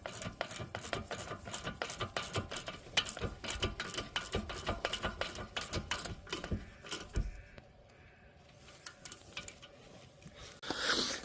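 Ratchet tightening caliper bolts and a 17mm nut on the rear brake of a Range Rover L494, a rapid run of close mechanical clicks for about seven seconds, then quieter handling and a final burst of noise.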